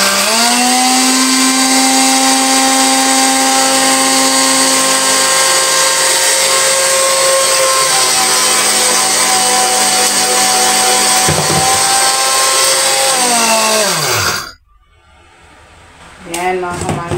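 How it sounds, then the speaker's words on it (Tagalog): Lidless blender grinding eggshells, a loud whining motor with shifting harmonic pitch as the shells break up, steady for most of the clip before cutting off abruptly, then a brief restart. "So, blender natin yung shell."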